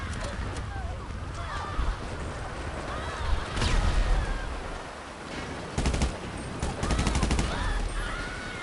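Gunfire rings out in Grand Theft Auto V online play, with bursts of rapid automatic shots and scattered single cracks of varying loudness spread through the stretch, mixed with game effects.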